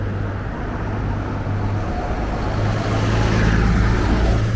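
Traffic rumble on a warm London street as a retro London bus passes, a steady low engine drone that swells slightly louder toward the end.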